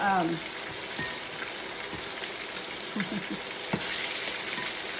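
Chicken pieces fry in oil in a Copper Chef fryer, producing a continuous bubbling sizzle, with a few scattered knocks and clatters from handling.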